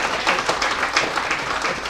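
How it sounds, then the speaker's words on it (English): Audience applause at an educator institute event as a speaker is welcomed to the stage: steady, dense clapping from a room of people, moderately loud and unbroken throughout. "let's clap for Lorenzo"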